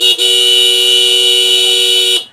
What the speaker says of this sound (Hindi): और इसमें लगा दिया गया है हॉर्न